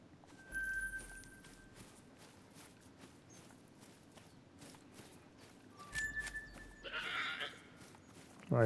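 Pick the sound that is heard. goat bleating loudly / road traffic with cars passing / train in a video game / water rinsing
goat bleating loudly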